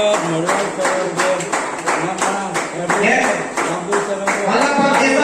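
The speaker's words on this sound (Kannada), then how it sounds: "ಪ್ರತಿಯೊಬ್ಬರು ಚಪ್ಪಾಳೆ ಹೊಡೆಯಿರಿ." Steady clapping from a crowd at a training felicitation ceremony, continuous over several seconds while a voice talks over it.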